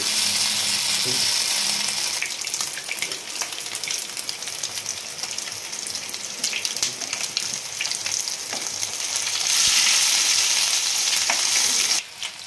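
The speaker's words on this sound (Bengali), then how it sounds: "ভেটকি ফিশগুলো সব ভাজা হয়ে গেছে।" Pieces of bhetki fish fry in hot oil in a saucepan, giving a loud, steady, close sizzle with crackling spits throughout and no talking.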